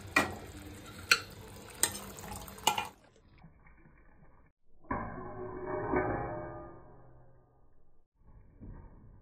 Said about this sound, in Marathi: याला आपण चांगलं तेल सुटेपर्यंत भाजून घ्यायचं मसाला